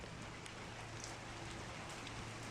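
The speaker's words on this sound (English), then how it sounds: "It's pouring the rain down." Heavy rain pours down in a dense, unbroken roar of drops hitting surfaces, loud and steady throughout with no voices.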